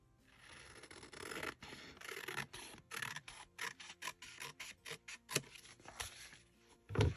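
Paper is trimmed for a craft page in a quiet room: a series of close, rhythmic scratchy cutting strokes, ending with a louder rustle.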